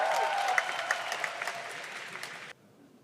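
Crowd applause with a few cheers at a Rubik's Cube world championship 3x3x3 final, sustained clapping with scattered sharp peaks that cuts off abruptly near the end.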